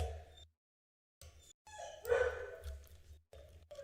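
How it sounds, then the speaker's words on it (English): A dog barking indoors during a live stream, a few fairly loud barks separated by brief silences, alone without talk. "My dog is barking."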